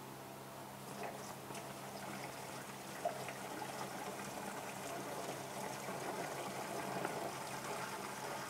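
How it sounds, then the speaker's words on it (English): Water pours steadily into a sterilizer tube, a continuous trickling, splashing flow at close range that holds an even level for several seconds with faint background hum and no talk. "Now we are pouring the water into the tube."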